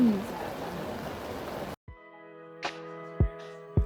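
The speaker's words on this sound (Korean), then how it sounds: "갑작스럽게 내리는 비가 야속하기도 했지만" Sudden rain falls as a dense, steady hiss for under two seconds, then cuts off abruptly, leaving a quiet hum with a few soft knocks.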